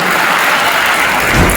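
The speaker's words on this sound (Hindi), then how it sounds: "एक बार इसके लिए जोरदार ताली" Audience applause at a public event with an education minister: a steady, dense wash of clapping from a crowd, loud and continuous throughout.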